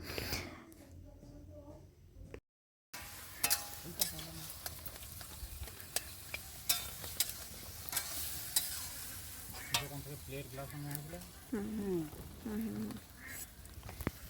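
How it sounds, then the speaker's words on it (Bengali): Papad frying on an outdoor stove during open-field cooking, a steady sizzle with scattered crackles and pops, close and moderately loud, with voices and a few honking or quacking birds heard in the background. "পিসেমণি পাঁপড় ভাজছে পাশের উনুনটাতে"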